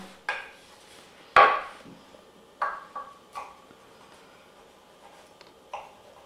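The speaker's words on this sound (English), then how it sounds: "So you just run your knife edge along it, just don't drag it" A knife slices through a loaf of spinach bread on a board. Several crisp, close taps and scrapes come at irregular intervals, with near silence between them.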